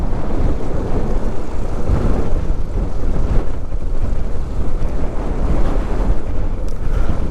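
Strong wind buffeting the microphone on a muddy mountain bypass road between Paete, Laguna and Mauban, Quezon, a loud continuous roaring rumble with gusty swells throughout, no voices.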